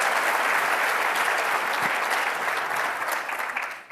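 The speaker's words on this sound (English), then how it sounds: "Let's give them a big round of applause." Audience applause at a conference fills the room as a dense, steady burst of clapping for about four seconds before it begins to thin out at the end.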